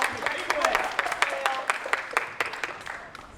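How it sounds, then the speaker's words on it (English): Audience applause at a talk event, a mix of claps from a smallish crowd heard fairly close, with a steady patter of hand claps and some sharper individual claps, fading a little toward the end. "Let's give him a round of applause."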